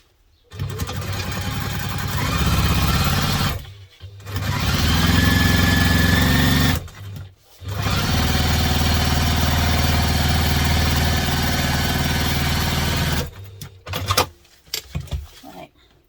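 A sewing machine stitches across the bottom of a duffle bag in three long, loud, steady whirring runs separated by brief pauses, followed by a few short stitch bursts at the end.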